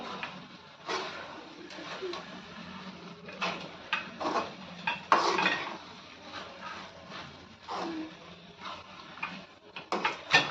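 A spatula stirs onion greens with ground peanut powder in a pan, giving soft, irregular scraping and clinking strokes that repeat throughout at a quiet, close level.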